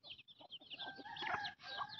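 Chickens clucking close by, a busy run of overlapping calls and short squawks with no pause.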